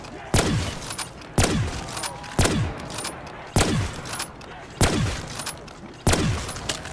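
Gunfire in a custom zombies video game: six loud, evenly spaced single shots, each followed by a short booming decay, close and prominent.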